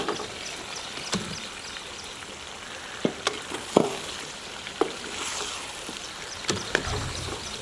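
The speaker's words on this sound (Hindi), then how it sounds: "अब इस मौके पे फ्राई किया हुआ चिकन इसमें शामिल कर लेंगे" Fried chicken added to a sizzling red masala in a karahi, a steady crackling sizzle with scattered sharp pops and clinks throughout.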